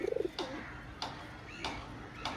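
Small old-breed pigeons give a short burst of soft, pulsing coos near the start, then a few faint rustles or wing sounds follow at even intervals.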